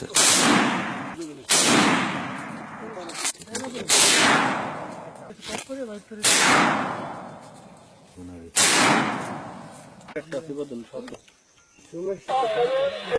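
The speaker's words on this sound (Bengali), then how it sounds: "যে ফায়ার হচ্ছে তো অনেক ফায়ার অনেক ফায়ার" Gunfire during a gunfight between an elite police battalion and the coast guard: five loud, separate shots spaced a couple of seconds apart, each with a long echoing tail. Voices talk between the shots.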